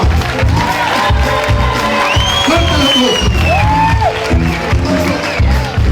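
A dense, loud concert crowd at a gig in Sala Río, Vigo, cheers, whoops and claps continuously, with shouted voices rising above the roar throughout.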